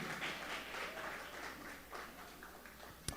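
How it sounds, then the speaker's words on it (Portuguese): A church congregation claps during a worship service, a soft, diffuse wash of applause heard from a distance in a reverberant hall, with one sharp louder clap near the end. "Você pode assentar aplaudindo ao Senhor?"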